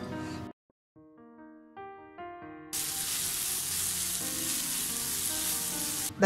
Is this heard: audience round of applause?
no